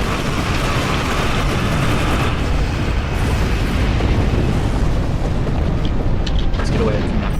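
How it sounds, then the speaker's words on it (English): Explosions rumble loudly and continuously through a Star Trek space combat game, a dense, unbroken roar of booms with no pauses, heavy in the low end throughout. "Big booms."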